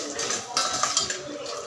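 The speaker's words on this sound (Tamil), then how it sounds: "நல்லா எண்ணெயில் அந்த எண்ணெயிலே போட்டுக்கணும். போட்டுக்கிட்டு நல்லா கலக்கணும். நெய்யில் போட்டு கலக்கணும்." A spoon stirs sago roasting in ghee in a pan, making close metallic scrapes and light clinks against the pan in a short continuous run.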